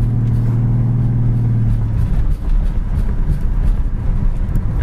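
A yellow Ford Mustang coupe drives along, its engine running steadily with a low droning tone that shifts after about two seconds as the transmission changes gear, carrying on as a continuous close road rumble.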